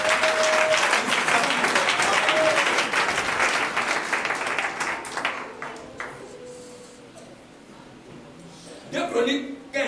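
Church congregation applauding loudly at a Protestant service, a dense burst of clapping that fades over several seconds, with voices in the hall and a brief spoken word near the end.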